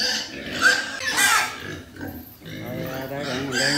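Pigs of about 35 to 45 kg on a Vietnamese pig farm grunt and snuffle close by. The sound is continuous and busy, with a few sharper squeals mixed into the pen noise.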